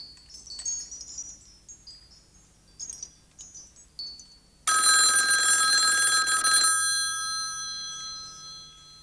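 A telephone bell rings loudly and continuously for about two seconds after a stretch of faint chiming and ringing tones, in a quiet room.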